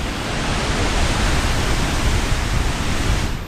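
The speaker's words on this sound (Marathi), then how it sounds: "तिथं पण एक छोटा धबधबा वाहतोय" Steady, dense rushing of a small waterfall on a hillside at Patnadevi near Chalisgaon, a continuous broadband roar holding even throughout with no voices.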